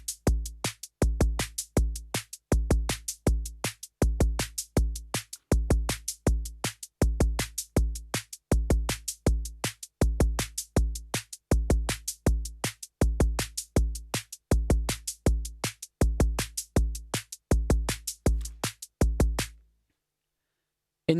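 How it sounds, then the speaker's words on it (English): A Korg Volca Drum plays a steady rock/synth-pop beat pattern, with punchy kick and snare hits repeating in a tight loop for about nineteen seconds before stopping abruptly. "I call this one rock/synth pop because it's a kind of pattern that's used in a lot of rock and synth pop."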